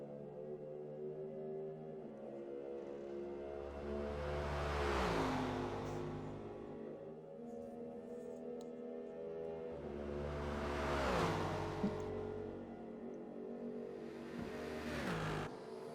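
A BMW and a Mustang race cars running side by side in a 24 Hours of Le Mans racing video game, engines droning and rising in pitch as they rev through gears, with two swelling passes.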